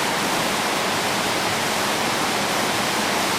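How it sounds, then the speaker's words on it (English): Heavy rain pours steadily in a Borneo rainforest near a canopy walkway, a dense, loud, unbroken hiss with no voices over it. "it started pouring"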